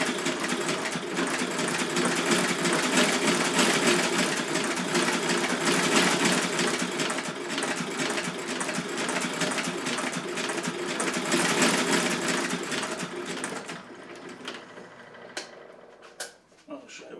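Sewing machine stitching along an edge, a fast steady mechanical whir and clatter held for about thirteen seconds before stopping, followed by a few small clicks and handling noises.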